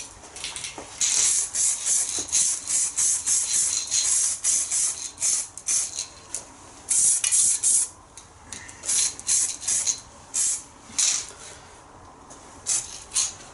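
Spray paint goes on as a light first coat over Austin Mini front suspension parts: repeated short hissing bursts from an aerosol can with brief gaps between passes, close and clear.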